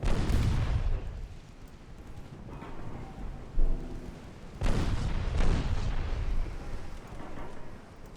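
Naval gunfire salvo in the Ultimate Admiral Dreadnoughts game, Austrian warship under fire: heavy booming thunder-like blasts with rumbling tails, a strong burst at the start and another near the middle, loud and continuous.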